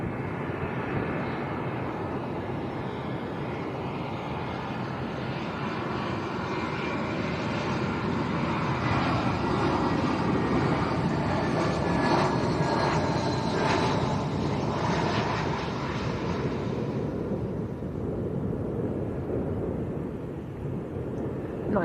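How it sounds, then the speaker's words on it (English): A British Airways airliner from London Gatwick lands at Lanzarote's Arrecife Airport, a loud continuous jet roar that swells to a peak and then fades into a softer rumble, no one talking. "This is British Airways from London Gatwick."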